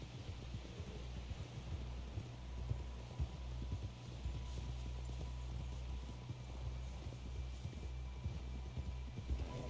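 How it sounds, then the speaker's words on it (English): Steady rhythmic clip-clop of horse hooves at a trot in the video game Red Dead Redemption 2, close and continuous, over a soft wind-like background hiss. "Someone help John down off this horse."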